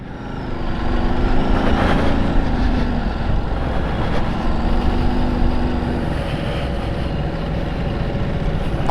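A Ducati Desert X motorcycle engine pulling uphill, a loud steady drone with wind rush and shifting engine pitch, heard close throughout.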